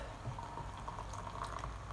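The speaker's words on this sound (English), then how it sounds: "half fill this cup with boiling hot water" Boiling water pours from a freshly boiled kettle into a coffee cup holding coffee, a steady close-up rush of liquid lasting the full two seconds without a break.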